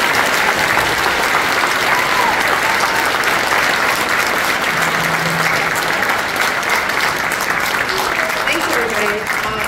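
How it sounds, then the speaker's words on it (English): Concert listeners give the All-County High School Band and its conductor another round of applause, loud, dense and unbroken clapping that fills the hall for nearly ten seconds. "please give the band and Dr. Bodnar another round of applause"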